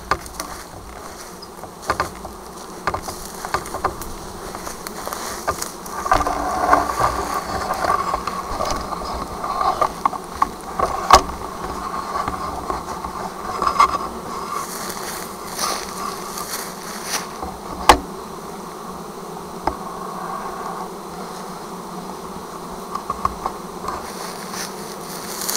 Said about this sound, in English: let me show you the swarm that's forming here on this tree